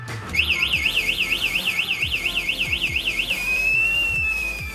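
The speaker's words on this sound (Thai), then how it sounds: "เช็คระบบสัญญาณกันขโมย ยังขโมยอยู่ จะเตือนแรงขึ้น" The anti-theft alarm on a JNT A6000-2 electric bicycle sounds a loud, rapid electronic warble, cycling up and down in pitch for about three seconds, then settling into a single sustained tone.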